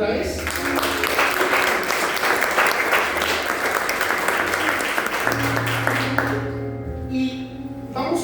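Church congregation claps loudly and continuously during a Spanish-language sermon, a dense crowd applause that thins near the end as a low sustained tone and a voice come in.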